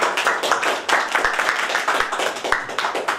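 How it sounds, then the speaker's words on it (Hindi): A crowd claps steadily at a launch programme in Mainpuri, a dense patter of many hands filling the room, fairly loud and continuous throughout. "सबसे पहले इनके लिए जोरदार तालियों से स्वागत करेंगे"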